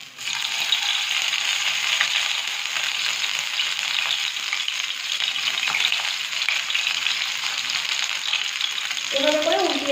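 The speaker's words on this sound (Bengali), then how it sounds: "তো আমার তেলটা গরম হয়ে এসেছে। পটলগুলো এক এক করে সব এর মধ্যে দিয়ে দেব।" Stuffed pointed gourds sizzle steadily in hot oil, a dense continuous frying hiss with a brief clatter near the end as they are moved in the pan.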